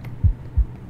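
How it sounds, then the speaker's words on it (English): A heartbeat sounds in the video game Chased by Darkness: two deep, muffled thumps about a third of a second apart over a faint low hum. "I hear my heartbeat."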